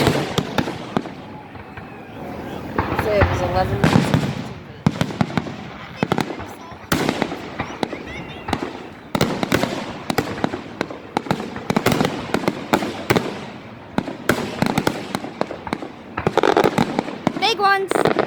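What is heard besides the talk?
fireworks exploding at beach on Canada Day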